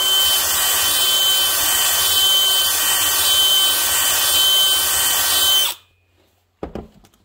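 Honing a Nikasil-lined two-stroke cylinder with a power tool, giving a loud continuous whirring grind for several seconds that cuts off abruptly, then a short silence and a few brief clunks.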